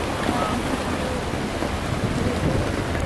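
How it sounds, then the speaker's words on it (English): A sudden, brief rainstorm pours down over a New York City park, a loud, dense and unbroken roar of heavy rain that holds steady throughout. "That was a brief but sudden little rainstorm"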